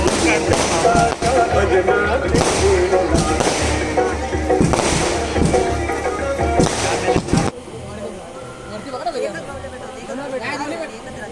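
Fireworks burst at a village temple fair in a series of loud booms and crackles roughly every second, over a murmur of crowd chatter, before giving way to quieter babble.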